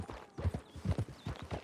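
Horse hooves clip-clop at a steady trotting rhythm while riding in the video game Red Dead Redemption 2, close and distinct, with faint background sounds.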